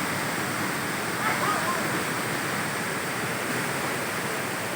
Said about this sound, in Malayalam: ഇവിടെ നിന്നെല്ലാം വെള്ളത്തിൻ്റെ സൗണ്ട് നമുക്ക് നല്ലപോലെ കേൾക്കാം.